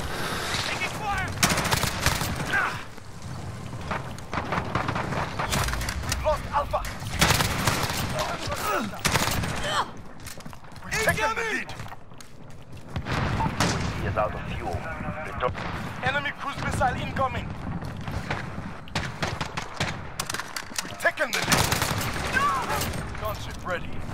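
Rapid bursts of heavy gunfire from a gunship in a video game, loud and repeated across the whole stretch, with other battle noise and voices talking over the shooting.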